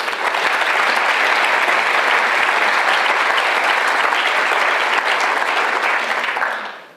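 A lecture audience at Trinity College Dublin breaks into dense, loud, sustained applause that holds evenly for several seconds before tapering off quickly at the end.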